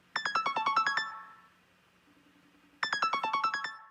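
An iPhone running iOS 14 rings for an incoming FaceTime audio call: two loud bursts of rapid, bright electronic tones, each about a second long, separated by a quiet gap of well over a second.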